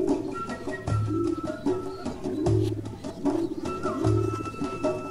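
Racing pigeons cooing at their loft, with repeated low throaty coos in a steady rhythm, close and fairly loud, over a busy background of other birds.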